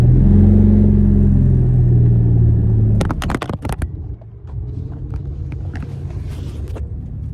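Ford Mustang with a V6 engine idling steadily and loud for about three seconds, then clunks and knocks as it is driven off, the engine settling into a lower, quieter running rumble.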